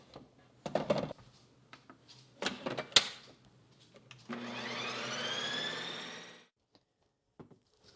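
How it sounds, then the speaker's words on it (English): A Ninja Creami ice cream machine spins loudly for about two seconds with a strong, steady whirring drone and rising motor whine, then cuts off. Scattered kitchen clatter and knocks come before it. "my only complaint with the creamy is how loud it is"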